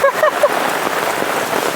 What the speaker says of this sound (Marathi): पावसाचा स्पीड बघा किती वाढला इथं